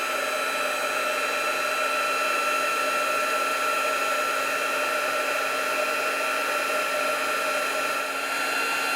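A handheld heat tool melting white embossing powder on a Christmas card blows a steady, close whirring hiss that holds constant throughout with no voices.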